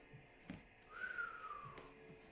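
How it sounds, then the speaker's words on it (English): A person whistles a single rising-then-falling tone, clear and close in a quiet room during a Pilates mat class, alone with faint soft thumps around it. "I don't know why I keep whistling today"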